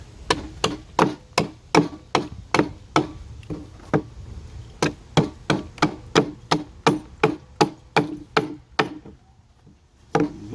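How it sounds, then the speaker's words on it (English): A pumpkin is carved with chisels and knives, producing a long run of sharp, evenly spaced tapping strikes close up, with a short pause midway and again near the end. "Go in with some chisels, knives, and stuff like that."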